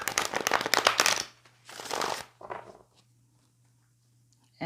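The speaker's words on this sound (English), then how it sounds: "I'll shuffle on camera as well" Tarot cards shuffled by hand in three quick bursts of riffling, rustling and slapping, close and fairly loud, with quiet pauses between them and no talking.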